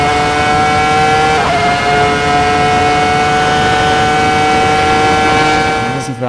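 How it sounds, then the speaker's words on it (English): Michael Schumacher's 2004 Ferrari V10 in the Assetto Corsa racing game, a loud, sustained high-pitched engine whine held steady at speed. A brief shift blip comes partway through, and the note drops off at the very end. "That V10. This is Michael Schumacher's 2004 Ferrari."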